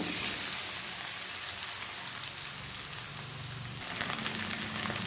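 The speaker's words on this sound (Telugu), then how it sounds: "కట్ చేసుకున్న కాకరకాయ వేసుకున్నాను" Cut bitter gourd frying in hot oil in a pan after a tempering, a dense continuous crackling sizzle close up, with no talking.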